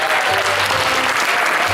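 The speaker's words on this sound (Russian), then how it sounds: "бурные аплодисменты" Audience applause at a KVN comedy festival, a dense, loud wash of clapping that stays steady through the brief clip, with crowd noise mixed in.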